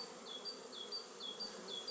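A honeybee colony hums steadily during an early spring hive inspection, with a continuous close buzz and individual bees whining past in repeated rising passes.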